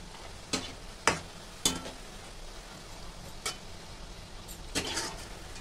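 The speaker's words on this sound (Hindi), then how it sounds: "मैंने गैस को हाई फ्लेम पर रखा है और इसको अच्छे से भून रहे हैं" Maida namak pare fry on a high flame with a soft, steady sizzle, broken by a few sharp spoon scrapes and clinks against the pan.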